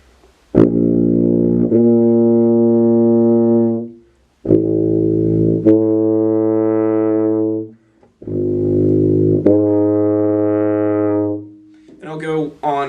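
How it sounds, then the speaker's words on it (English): Tuba plays lip slurs, starting on a low sustained note and slurring up an octave while swelling louder, repeated three times with pauses between, loud and close; a voice begins speaking at the very end. "So I'll start at a lower note and then jump an octave, slurring up"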